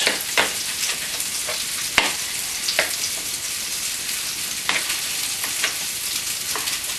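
Hot sausages fry in a pan for a Sicilian-style spaghetti sauce, giving a steady close sizzling hiss broken by occasional sharp pops and spatters, with no voices.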